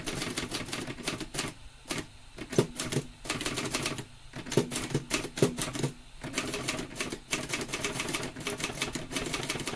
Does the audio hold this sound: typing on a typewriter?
yes